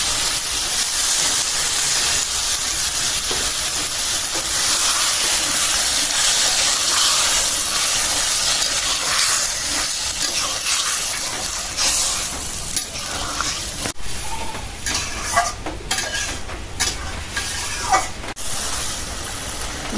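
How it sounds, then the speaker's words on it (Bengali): Water splashes into a hot pan of fish masala, setting off a loud, steady hissing sizzle that rages on, then eases into bubbling with a few sharp clatters near the end. "এখন একটু পানি দিয়ে দিই মাছ মিলানোর জন্য"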